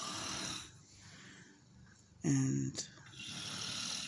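A loud, harsh snore bursts out once near the middle of a short stretch of chatter, with a voice briefly heard before it and outdoor-sounding background after.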